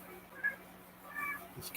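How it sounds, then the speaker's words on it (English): Cats meow in a garage where LS engines are being worked on, with two short, fairly faint meows over a low background hum and a brief louder clatter at the end. "these cats are going crazy."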